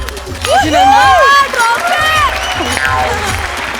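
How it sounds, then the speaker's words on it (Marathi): Loud studio audience applause and cheering at an award presentation on a Marathi comedy stage show, a dense burst of claps under excited crowd voices and a host's talk. "जोरदार टाळ्या."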